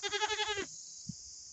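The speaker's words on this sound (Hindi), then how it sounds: "और अभी ना यहाँ पे छोटी बकरी खा रही है" A young goat bleats in a quick wavering run of cries while feeding, close and fairly loud, then stops abruptly, leaving a quiet background with one soft knock.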